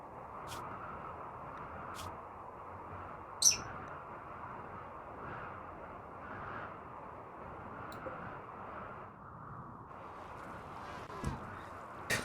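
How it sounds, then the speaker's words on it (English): Birds in a RimWorld colony chirp and tweet in short, scattered calls over a faint steady background hum, with no talking. "It's my birds. They make those noises."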